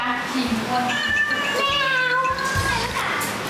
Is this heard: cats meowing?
yes